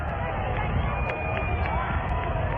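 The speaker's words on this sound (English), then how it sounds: "Now, as he becomes more visible down to this end, the people cheer" A large outdoor crowd in Dallas cheers steadily as President Kennedy approaches, a broad continuous roar with scattered shouts and whistles, loud and sustained throughout.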